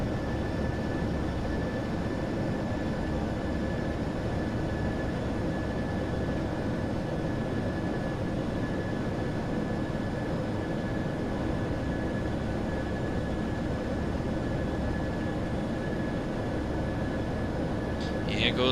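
A Ryanair airliner passing, a broad steady roar with a thin whine running through it, holding fairly even and distant across the whole stretch, with no voices over it.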